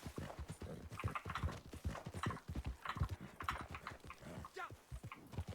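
Horse hooves in Red Dead Redemption 2, a steady clip-clop of a ridden horse at a walk, with snorting and whinny-like sounds mixed in, moderately close and continuous throughout.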